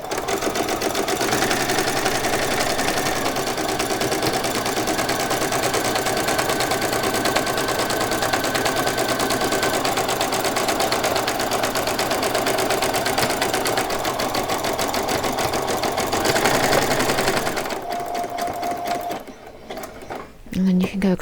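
A sewing machine runs a zigzag stitch on fabric for doll cleaning items, chattering quickly and steadily for a long stretch at close range before slowing and stopping near the end; a voice talks throughout.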